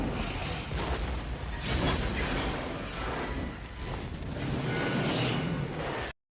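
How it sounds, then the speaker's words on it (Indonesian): A plane crashing and exploding in a film scene: rumbling mechanical creaks and booming impacts that swell and surge for several seconds, then cut off abruptly. "Pesawat mereka jatuh dan meledak."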